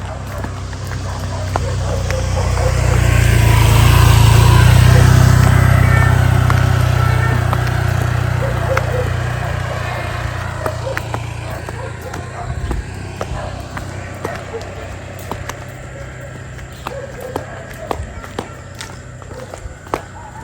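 A motorcycle passes on a rural road near a river, its engine swelling loud and close, then fading into the distance while light rustling and footsteps continue.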